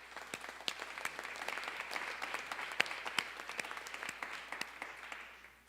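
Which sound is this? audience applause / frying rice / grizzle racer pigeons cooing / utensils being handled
audience applause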